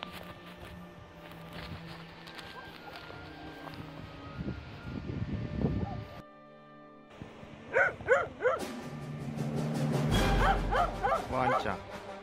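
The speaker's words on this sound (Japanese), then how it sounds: "犬っ子だ。" Small dog-like yips and barks from a dog character in the fishing game Yurui Tsuri Quest, mixed with music and sound effects, louder bursts near the end.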